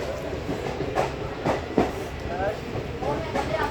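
A local train rolling on rails in cold weather around Amritsar, a continuous rumbling ride with rhythmic clacks from the wheels over joints and scattered voices talking in the background.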